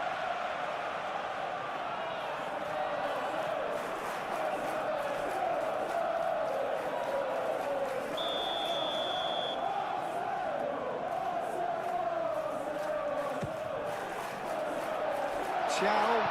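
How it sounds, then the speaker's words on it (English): Stadium crowd noise from a PES 21 Premier League match between Arsenal and Newcastle United, a steady roar of many voices holding at an even level throughout, with a brief whistle-like tone midway and a few louder swells near the end. "Maybe the crowd will stay a little quieter next time."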